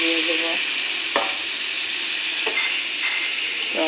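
A spatula stirs spice masala through pointed gourd and potatoes in a sizzling pan, with scraping strokes recurring every second or so over a steady frying hiss.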